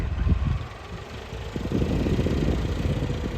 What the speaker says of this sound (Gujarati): તો ટ્રેક્ટરે અવાજ બદલાવી જાય આખે આખું ત્યાં ભરાય